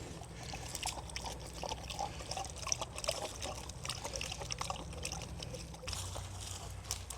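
Water is poured into a bowl for a dog, a steady trickling and splashing that runs continuously at low level with no one talking over it.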